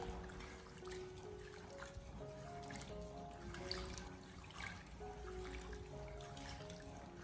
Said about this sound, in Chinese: 然后再重新的添加满清水，继续的将它清洗一下